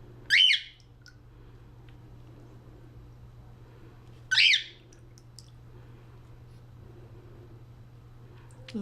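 A pet bird lets out two loud, piercing squawks about four seconds apart near the listener, with a quiet steady hum between them.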